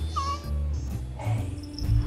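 A cat meows close by, a short rising cry followed by a few softer mewing sounds and rustling within about two seconds, with no speech.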